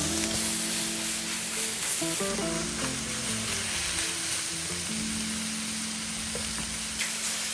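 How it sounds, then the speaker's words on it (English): Shiitake mushrooms, napa cabbage and snow peas stir-fry in a hot wok, giving a steady loud sizzle with scraping and stirring clatter throughout, a thin high whine running through the middle, and no talking. "So we want to just stir fry the vegetables for about 3 or 4 minutes"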